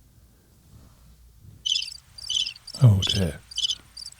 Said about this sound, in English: Nothing. Crickets.